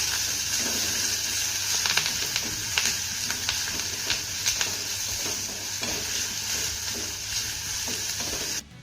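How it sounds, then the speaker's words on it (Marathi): Chopped onion and curry leaves sauté in a pan for a spicy drumstick dish, giving a steady close sizzle with repeated scraping stir strokes throughout and no talking. "हा कांदा आपल्याला मौसूद होईपर्यंत छान असा परतून घ्यायचा आहे"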